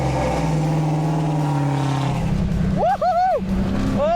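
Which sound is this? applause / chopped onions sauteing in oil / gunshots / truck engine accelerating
truck engine accelerating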